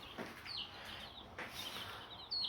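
Month-old chicks peep faintly while being weighed, with a few thin high chirps scattered over low background noise and no talking.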